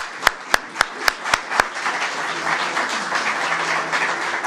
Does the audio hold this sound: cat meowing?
no